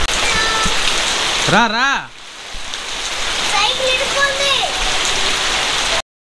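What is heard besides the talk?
heavy rain falling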